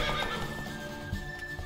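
A horse whinnies in a short, bright call in The Witcher 3 over a busy background with faint hoof clatter, with no talking.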